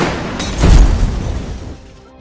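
A gunshot fired as a police officer shoots Karim in a gangster film: one heavy, booming blast that rolls off over about a second and a half.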